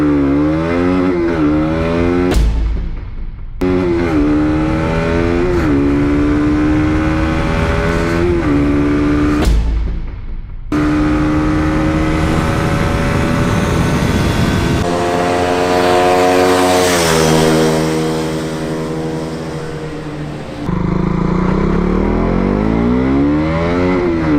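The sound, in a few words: KTM Duke 200 motorcycle engine on a road test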